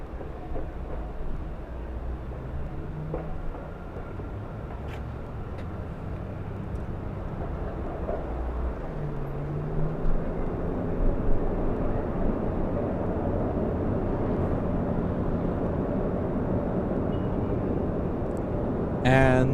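A plane arriving at Los Angeles airport from JFK gives a low, broad roar that builds slowly and stays heavy and steady for about twenty seconds, with voices talking underneath.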